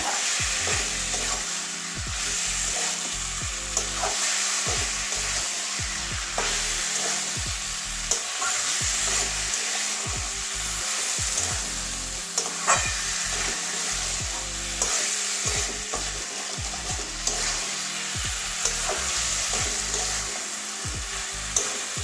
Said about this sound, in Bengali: এবারে ভেজে রাখা আলু পটল দিয়ে দেব সবগুলো একসঙ্গে আবারও কষিয়ে নেবো ভালো করে